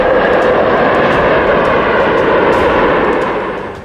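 Indian Air Force Dakota transport planes landing at Srinagar airport in 1947, a loud steady propeller-engine drone that holds throughout and begins to fade near the end, with no talk.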